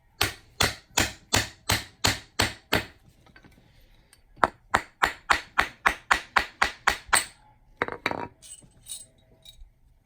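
A quarter coin ring hammered on a mandrel to stretch it, sounding as two runs of sharp, bright metallic strikes in a steady, even rhythm, close and loud, with a short pause between them and a few lighter taps at the end.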